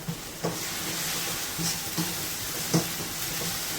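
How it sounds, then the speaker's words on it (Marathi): Ginger, garlic and asafoetida fry in oil, giving a steady soft sizzle and hiss with a few faint stirring knocks. "तेलात चांगलं परतून घ्यायचं आहे अद्रक लसूण दिसते वगैरे त्याचा कच्चेपणा गेला पाहिजे त्याच्यात मी हिंग टाकला"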